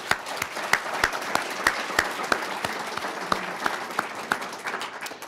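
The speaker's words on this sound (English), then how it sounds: "Let's give him a round of applause." Moderate applause from an evening conference audience, with individual claps standing out sharply in an uneven rhythm over a steady wash of clapping.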